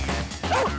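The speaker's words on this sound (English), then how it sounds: "she runs around the pen barking" Dog barking while running around a horse pen, one short yipping bark close by amid a noisy background.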